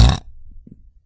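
A deep, guttural burp from a woman streaming on Twitch, loud and close, lasting about a fifth of a second before trailing off into quiet low rumbling.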